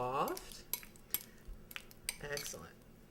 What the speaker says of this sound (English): I'm just going to start mashing this up with a fork just to get it all soft.